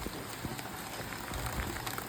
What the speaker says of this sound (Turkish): Bugün Fena yağıyor hava. Nasıl yağıyor? Bir bakın nasıl yağıyor.